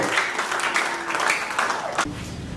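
Guests at a civil wedding ceremony in the Moungali town hall, Brazzaville, applaud in a dense, steady burst of clapping that fades near the end, with a few murmured voices beneath.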